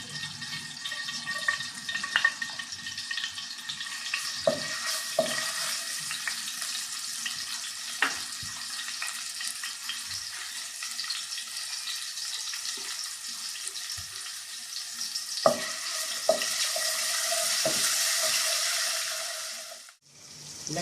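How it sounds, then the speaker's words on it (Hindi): Garlic and ginger paste fries in hot oil for masala rice, a long continuous sizzle with occasional clicks and spoon knocks, swelling into a louder rushing hiss near the end before cutting off briefly; no one speaks. "लहसुन और अदरक का पेस्ट ये अच्छी तरह फ्राई हो गया"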